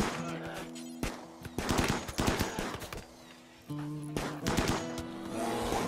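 Video-game gunfire from a RimWorld firefight: bursts of rapid shots crack in clusters, some fast machine-gun-like volleys, with pauses between, over a steady tonal game music bed.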